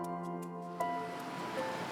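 A stream cascade running in winter, giving a steady broadband rush of flowing water with a few faint tonal hums over it, alone and continuous.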